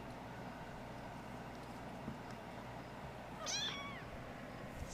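Three-week-old kittens meow, one short faint rising cry against a steady low background hum.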